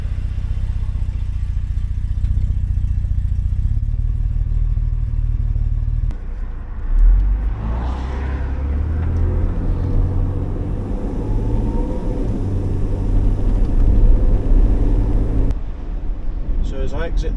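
Powertrain of a 1968 Jaguar S-Type while driving: a steady low engine and drivetrain hum from inside the cabin, briefly dipping and swelling midway, with someone talking over it throughout.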